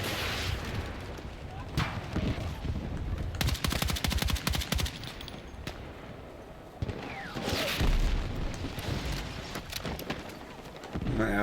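Battlefield combat against a tank: rapid machine-gun fire and heavy blasts of rockets and explosions in dense bursts, loud and close, fading in and out across the fight.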